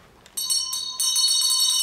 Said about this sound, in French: cette petite cloche discrète.